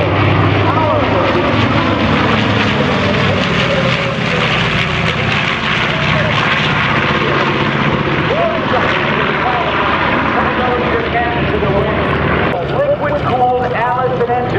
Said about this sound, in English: The airplane now inbound from the left, but wait, the Zero is on the attack from the right.